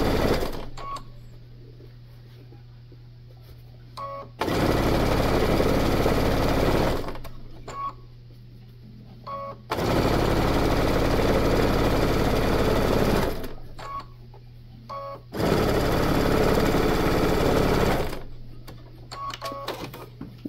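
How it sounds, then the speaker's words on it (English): Sewing machine stitching around the edge of a fabric bag in loud, sustained bursts of several seconds each, separated by quieter pauses with a low idle hum. "you're just going to kind of sew all the way around that edge"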